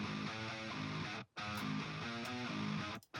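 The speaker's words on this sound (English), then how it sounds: "there comes another pair of guitars," A second pair of electric guitars plays a rhythmic riff in a song intro, dense and full, cutting to brief silence twice before resuming.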